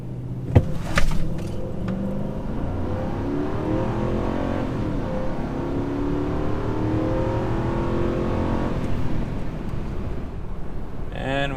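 A 2008 Nissan Armada accelerating hard from 0 to 60 on a cold 23-degree day, heard from inside with a steady engine roar rising through the run and a brief thump near the start.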